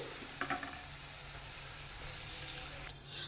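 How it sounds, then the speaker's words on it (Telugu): Tomatoes frying in a pan give a steady close sizzle with light stirring scrapes, continuous and alone with no talk. "ఓకే వేసి మన టమోటా బాగా వేగిపోయింది కదండి"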